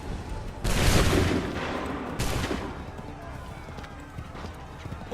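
Musket volley fire from a redcoat line in Assassin's Creed 3 Remastered at the Battle of Bunker Hill: two loud broadband blasts, the first a long rolling crackle, the second sharper, decaying into battlefield noise.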